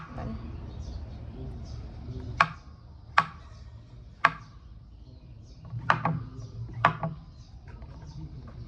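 A knife chops fried Chinese sausage on a cutting board for a stir-fry, with several sharp, separate knocks spaced about a second apart over a low, steady background hum.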